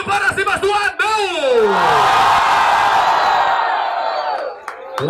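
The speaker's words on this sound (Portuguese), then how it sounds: "Muito barulho para cima do Anão!" An audience at a BDA Hip Hop Tour 2019 rap battle semifinal in Caraguatatuba roars, whoops and yells for the rapper Anão. The loud crowd noise swells quickly and holds steady, following some shouting from a host.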